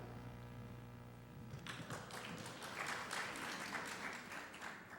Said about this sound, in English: So you can just get applause for asking a question here.